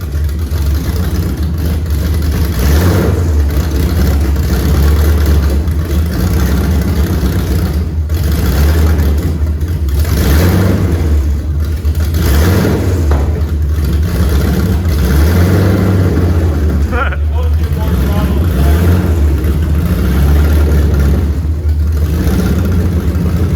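A Mercedes sleeper fitted with a Voodoo flat-plane V8 runs loud and close for its first start, a steady heavy engine drone with repeated rises and falls as it is revved throughout.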